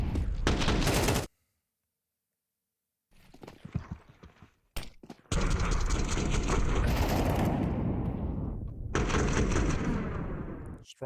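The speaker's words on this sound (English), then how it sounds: "Strong shooting from Ema." Counter-Strike gunfire at a professional esports match, loud bursts of rapid shots and fusillades that cut off abruptly, with a stretch of silence, then dense overlapping firing that returns in heavy bursts near the end.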